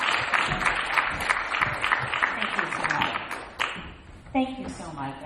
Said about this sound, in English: Let's have a warm round of applause for Dr.